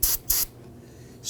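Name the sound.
spray solvent sprayed into an electrical connector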